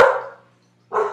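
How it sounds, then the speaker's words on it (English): A dog barks twice nearby, a loud bark that fades out, then a short pause before a second sharp bark, indoors with no talking. "Now my dog's barking."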